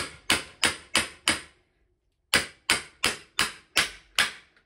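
A hammer seats a star nut in an electric mountain bike's fork with sharp, evenly spaced blows, five in a row, a pause, then six more, close and loud.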